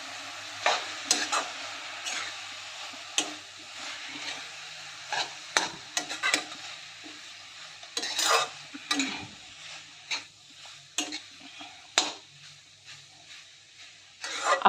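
Veg hakka noodles with sauces being stirred and tossed in a pan, soft frying sizzle under repeated clattering scrapes and knocks of the utensil against the pan, close and irregular, with no talking.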